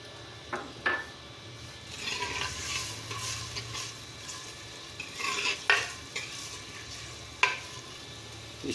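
Garlic ginger paste and finely chopped green chillies frying in a clay pot with browned onions, a steady close sizzle broken by several sharp scrapes and clinks of a spoon stirring against the pot.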